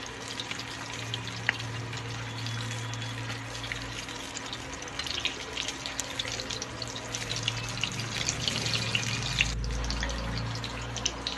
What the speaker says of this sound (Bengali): এক এক করে পকোড়াগুলো ভেজে নেব।